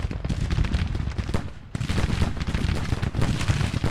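Dense volleys of gunfire roll through a Civil War battle in Grand Tactician, overlapping cracks and booms with a brief lull midway before the firing resumes loud and continuous.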